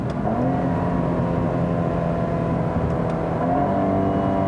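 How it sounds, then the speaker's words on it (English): A 2018 Cadillac ATS-V engine droning steadily under load while driving, a loud continuous hum with faint pitch climbs as the revs build, no voices present. "You have to kind of get the revs up for it to sound really good."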